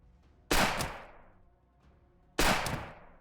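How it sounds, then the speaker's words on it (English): Two sharp, loud bursts from a pulse grenade in the sci-fi game Colony Ship, each booming and then fading over about a second, separated by near quiet. "Pulse grenade."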